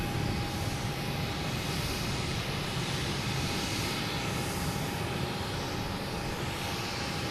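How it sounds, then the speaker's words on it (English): A JetBlue Airbus A321 arriving from Seattle comes in to land, a steady, loud broadband engine roar that holds evenly throughout with no voices over it. "That's JetBlue coming in from Seattle. A321."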